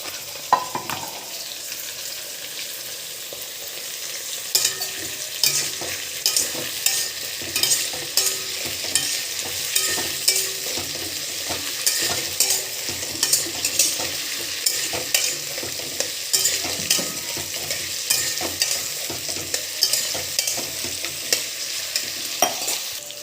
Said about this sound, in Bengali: তেলটা গরম হয়ে যাওয়ার পর আমি এক এক করে সব সবজিগুলো ভেজে নেব।